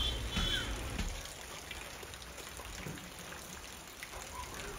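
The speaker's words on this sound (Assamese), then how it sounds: "ইমান বেয়াকৈ বৰষুণ দিছে" Heavy rain pours down in a windy storm with a steady broadband hiss of drops on surfaces, a little louder at the start and then an even, moderately quiet downpour.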